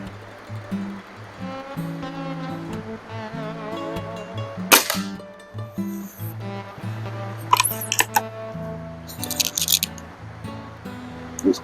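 A BSA Meteor Super air rifle fires three crisp, separate shots, each a short sharp crack, over steady background music.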